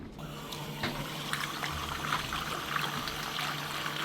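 Brownish water runs steadily from a tap in a small New York apartment, a continuous splashing rush with a low hum underneath that stays steady throughout.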